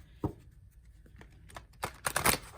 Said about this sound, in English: I'm gonna give them a little bit of a shuffle